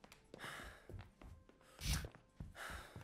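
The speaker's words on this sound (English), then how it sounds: "Why is he breathing so much?" Heavy breathing from a character in the video game Ad Infinitum, a sequence of audible breaths, gasps and sighs at irregular intervals, with one louder huff near the middle.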